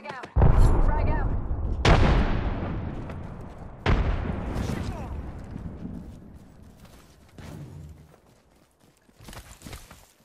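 Frag grenade blasts and gunfire in the Apex Legends video game: three loud, booming explosions about two seconds apart, each with a long decaying rumble, followed by fainter scattered shots.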